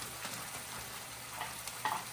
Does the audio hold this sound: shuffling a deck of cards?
no